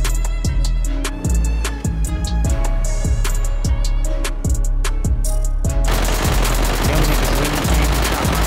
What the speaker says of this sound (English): Once G-Stone heard all them shots